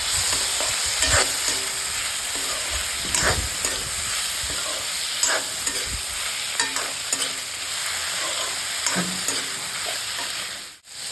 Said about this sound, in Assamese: এতিয়া গোটেইখিনি মই ভাজি থাকিম।